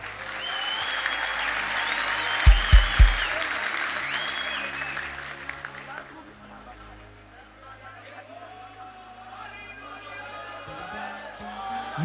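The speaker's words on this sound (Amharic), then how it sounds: "አጨብጭቡና ቁጭ በሉ።" Applause from a congregation at a youth church conference, loud sustained clapping and crowd noise with a few heavy thumps early on, fading out to a lower murmur with music-like tones behind.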